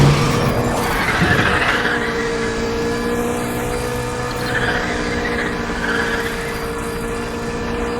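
Racing car engine in the video game Need for Speed: The Run, a loud sustained engine drone with rising and falling pitch sweeps and a brief tire-skid burst near the start.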